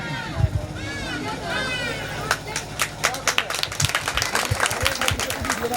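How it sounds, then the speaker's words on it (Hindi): Audience at a school Teacher's Day celebration claps after a dance performance, a burst of scattered applause building and continuing over crowd murmur and voices from about two seconds on. "जोरदार ताली होगी।"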